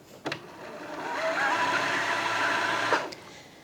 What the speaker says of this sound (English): Now I click over to the right and start winding with the foot pedal.